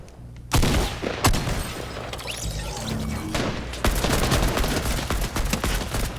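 AK rifle fire in a video game, loud bursts of automatic shots cracking in rapid succession across several seconds, with sharp individual reports standing out near the start.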